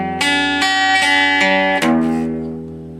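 The intro of a song is played on guitar in a choppy way, with a few sharp strummed attacks cutting off ringing notes before a last chord fades out, close and alone.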